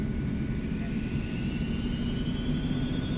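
Airliner taxiing in X-Plane 11, a steady low jet-engine rumble with faint rising whine, continuous and fairly loud throughout.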